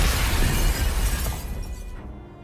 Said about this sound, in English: Behemoth slams the crystal on the ground, sending shattering crystals fragments flying everywhere